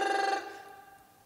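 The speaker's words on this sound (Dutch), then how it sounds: "Telefoon." A telephone gives a short burst of bright electronic ringing that stops abruptly and leaves a fading tail, with no one talking.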